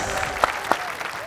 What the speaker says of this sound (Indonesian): Yuk tepuk tangan dong buat Kak Dimas